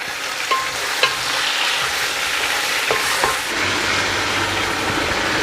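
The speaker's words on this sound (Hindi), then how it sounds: "बीफ और साथ में जो बीफ की बोन है वो भी। अभी मैं इसको अच्छी तरह भूनूंगा।" Beef pieces with their bones fried and stirred in a pot for haleem, a steady close sizzle with a few sharp scrapes of the spoon against the pan throughout.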